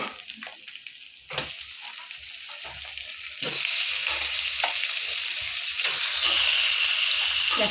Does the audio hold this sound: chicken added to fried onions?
yes